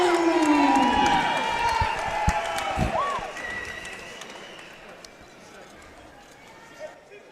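At a DMP Boxing pro card, a crowd claps, whoops and cheers as a fighter is introduced. The noise is loud at first, then slowly fades to a distant murmur with scattered shouts. A few sharp knocks and thuds come through it.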